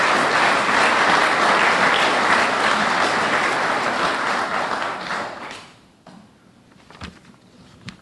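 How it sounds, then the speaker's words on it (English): A crowd applauds at a veterans memorial building's grand reopening ceremony, loud sustained clapping for about five seconds before tapering off to a few scattered claps and room noise. "Please give those folks a round of applause"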